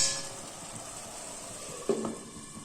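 Tomatoes for a fried chicken biriyani cook covered in a pan over low flame, giving a steady faint sizzle with a brief louder bubbling burst near the end, no voices.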